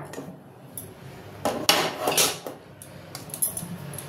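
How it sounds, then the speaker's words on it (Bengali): A wok (kadai) is set down on a kitchen stove, giving a few close metallic clanks and scrapes, with one cluster of louder knocks in the middle and quieter clinks around it. "এবার আমি কড়াই বসিয়ে দিয়েছি, কড়াইয়ের মধ্যে তেল দিয়ে দেবো।"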